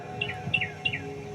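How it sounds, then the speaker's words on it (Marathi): Three short, bright bird chirps in quick succession over a low, steady hum. "पक्षी किलबिल किलबिल करत आहे."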